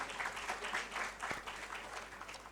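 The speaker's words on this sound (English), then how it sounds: "One more round of applause for them" Audience applause for conference panelists at a tourism event, a steady patter of clapping from a crowd lasting a couple of seconds at moderate volume.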